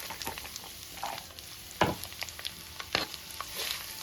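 Chopped small shallots sizzle steadily in a pan while a spoon stirs them, with a few sharp scraping knocks over the constant close frying hiss.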